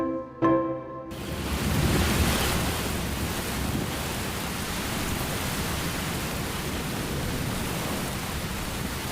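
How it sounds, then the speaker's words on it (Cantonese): Heavy rain during a storm under a strong wind signal pours down as a dense, steady roar of broadband noise that starts abruptly and stays loud and unbroken throughout. "好大雨啊！ 聽到嘛？"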